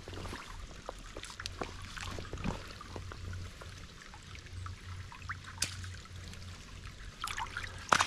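Water trickling and splashing in a city creek as someone wades and plays in it, with soft intermittent sloshes and drips over a steady low background, fairly quiet and without talk.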